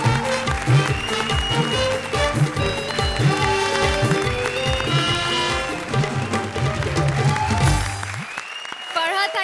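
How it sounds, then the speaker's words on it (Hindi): Studio audience applause for Krishna and Sudesh on a comedy show, dense and sustained clapping over rhythmic music that cuts off near the end. "सुपर जोरदार तालियां कृष्णा और सुदेश के लिए"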